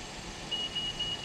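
A few short, high electronic beeps from a 2020 Acura TLX A-Spec tire pressure monitor as a tire reaches 32 psi, over a steady low hum, spaced unevenly, close by.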